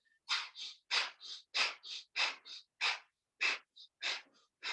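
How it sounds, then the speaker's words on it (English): Forceful Kapalbhati yoga breathing, a rhythmic series of about a dozen sharp, close nasal exhalations, each a short puff at a steady pace, some paired with a quicker follow-up breath, with silence between. "I want you to breathe out forcefully, Kapalbhati, and breathe in as well"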